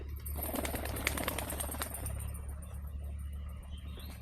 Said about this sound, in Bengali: এগুলো সব পায়রা।